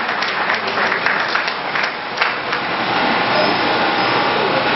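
Audience at an award ceremony on gas flaring, hosted by Ozoro (IDU) women, claps continuously and loudly for about five seconds, a dense steady patter of many hands.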